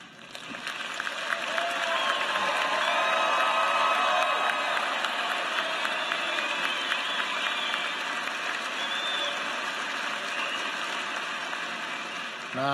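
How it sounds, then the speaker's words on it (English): Sustained applause and cheering from a large arena crowd at a spring university graduation ceremony, rising quickly and holding at full strength for over ten seconds, with scattered shouts mixed into the dense clapping. "Now I hope all the graduates heard that great round of applause"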